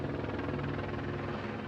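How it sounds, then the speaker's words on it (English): A helicopter flies overhead in Los Angeles, a steady loud rotor chop with a low hum, alone and unbroken. "The thing about living in LA is there's always helicopters."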